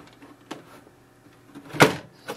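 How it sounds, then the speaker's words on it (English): An HP Envy Photo 6255 printer's ink cartridge door snaps shut with one sharp, fairly loud click, preceded by a softer tap of the plastic panel and followed by a faint knock, in an otherwise quiet room. "Once it is done, close the ink cartridge chamber door."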